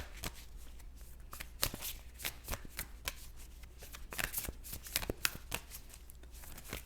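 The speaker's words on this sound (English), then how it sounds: "I'm going to go ahead and pull an oracle card for you" Oracle cards are shuffled by hand in repeated crisp riffling bursts, close and fairly loud, with a few soft taps between them and no talking.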